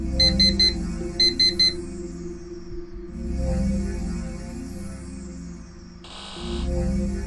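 Repeated electronic beeping of an alarm clock in the game Actual Sunlight, sounding in short bursts over a low droning background, then fading into ambient hum.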